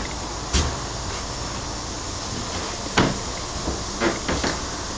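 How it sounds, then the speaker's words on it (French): Drawers and storage cupboards opened and shut inside a boat cabin, several separate knocks and clunks spaced irregularly over a steady hiss of background air, close and fairly loud with no talking. "avec tiroir, un rangement, il y a des penderies, des rangements"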